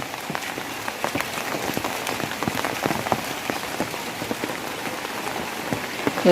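Steady rain falls on a waterlogged home courtyard, a dense, continuous hiss packed with sharp close-up drip and splash ticks at an even, moderate loudness throughout, with no voices.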